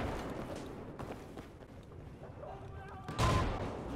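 Gunfire from a gunner in Battlefield 4 comes as a few sharp bursts amid game noise, with a louder, heavier burst near the end.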